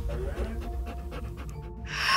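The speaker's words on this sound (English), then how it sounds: "I know you're just a dog" A dog pants in short, quick breaths, close and fairly loud, with a brief rising noise at the end.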